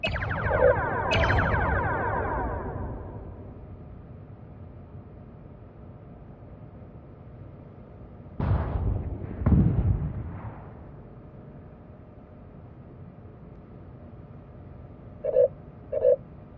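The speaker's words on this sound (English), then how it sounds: "Target the nearby ship and fire torpedoes at it." Torpedoes launch at a nearby ship in Star Trek: Bridge Crew, a booming rumble up front followed by two heavy whooshing blasts mid-way and a couple of short beeps near the end.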